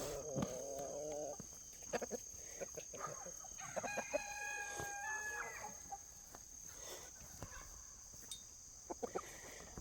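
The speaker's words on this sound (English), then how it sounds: "That's half guinea, half chicken hybrid right there." Chickens and a guinea fowl-chicken hybrid cluck and call nearby, including a rooster-like crow, with scattered sharp clicks and a steady high electronic whine underneath.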